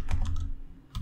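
Code is typed on a computer keyboard as a quick run of close, crisp key clicks, followed by a short pause and another click.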